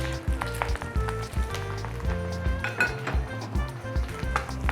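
Carrots stir-fried in a little hot oil in a pan for crispy noodles: steady metal clatter and scraping of a utensil against the pan over a light sizzle, close and continuous.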